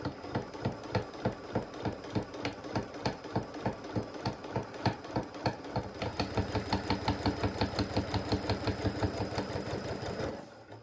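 Quilt squares for a handmade baby rag quilt being stitched corner to corner on a sewing machine, a steady rapid mechanical chatter up close that picks up into a denser continuous run, with no talking.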